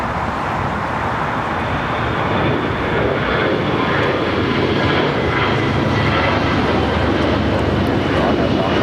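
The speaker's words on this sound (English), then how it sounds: "This is American Airlines 636 taking off to Charlotte. It's on the A321." An American Airlines Airbus A321 jet takes off at LAX, a loud, steady, broadband engine roar that holds strong and close throughout.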